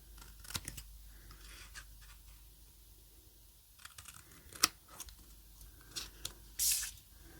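Scissors snipping squishy foam material into shape, a quiet close run of soft cuts, rustles and a few sharper clicks with no talking.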